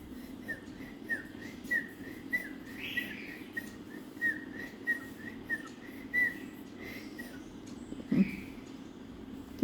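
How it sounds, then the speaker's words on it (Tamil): Repeated short whistles for training a pet cockatiel, evenly spaced in a steady rhythm over a low household hum, with a brief chirp near the end. "இப்படி விசில் அடித்து காட்டினோம்னா அவங்க அப்பா விசில் அடிக்கிறது அவனுக்கு தெரியும்."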